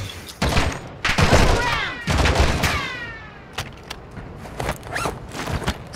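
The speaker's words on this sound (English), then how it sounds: "Something's shooting me from there" Gunfire aimed at the player in Warzone 2.0, several loud bursts of shots in quick succession with rattling echoes, then sparser distant pops trailing off.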